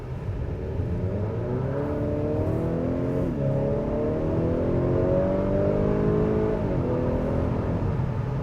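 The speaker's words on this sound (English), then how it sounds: "I'll just rev it a little bit here" A 2018 10th-generation Honda Accord engine revving while parked, a steady idle hum that climbs in pitch through a couple of throttle blips and then settles back, heard from inside the car.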